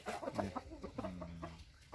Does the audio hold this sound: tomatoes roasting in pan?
no